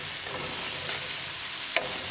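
Cooked frozen mixed vegetables with tender carrots are stirred in a pot over a soft, continuous background hiss, with a single brief scrape or clink near the end. No one speaks.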